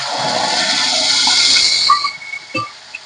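Tomato paste hits hot oil with cumin seeds and bay leaves, giving a loud, close hissing sizzle for about two seconds that then dies down to scattered soft crackles.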